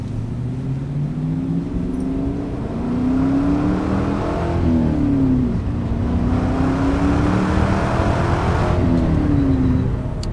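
A 2000 Pontiac Firehawk with a 5.7 V8 and six-speed manual accelerates hard on a road test drive, its engine note climbing through the revs and shifting gears, loud and close with a steady roar.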